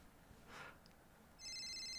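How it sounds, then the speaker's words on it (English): A phone rings on an outgoing call, the ringback tone starting late and continuing steadily, faint and slightly distant after a brief soft rustle, with no talking. "It's ringing. It's ringing."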